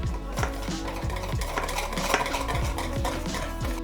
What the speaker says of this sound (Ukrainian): І вливаємо сюди здобу. Добре все перемішуємо.